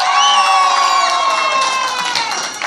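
A hotel crowd of holidaymakers at a resort in Konakli, Turkey shouts and cheers loudly in one sustained, close roar of high voices and whoops that slowly fades toward the end.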